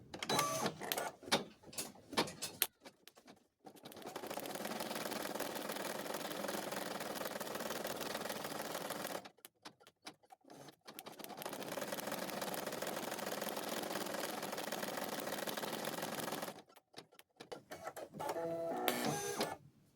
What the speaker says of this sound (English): Now that we have the design for the hair loaded into our embroidery machine